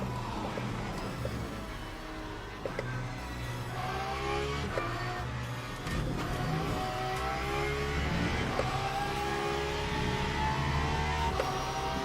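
A Porsche race car engine in Le Mans Ultimate drones steadily throughout, its revs rising and falling as it accelerates and shifts at Interlagos, loud and continuous with no talking.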